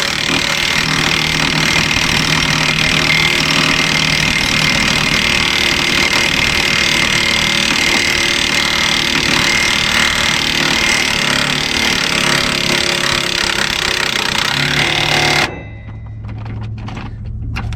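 An impact wrench runs in a bolt during brake and shock work on a 2004 Mack Vision truck, a loud, harsh, continuous air-tool roar lasting about fifteen seconds before cutting off to a quieter background.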